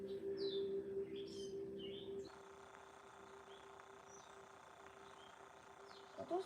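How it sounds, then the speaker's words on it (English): Several small birds chirp and tweet in quick bursts from mid-distance over a steady low hum; the calls thin out after the first two seconds, leaving faint scattered chirps and one louder burst near the end. "Those birds sound pretty."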